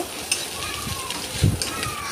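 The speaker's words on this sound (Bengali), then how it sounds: "নাড়াচাড়া করব, ভালো করে ভেজে নেব।" Onion and egg frying in a pan with salt, turmeric and cumin, a steady close sizzle with a few scraping stirs and a clack of the utensil, no voice.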